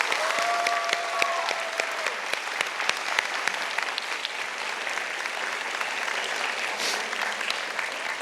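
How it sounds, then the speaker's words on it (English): A middle school graduation audience gives sustained, dense applause for the teachers, steady and loud for the whole stretch with a brief whistle near the start. "So let's have one big round of applause for our team of teachers."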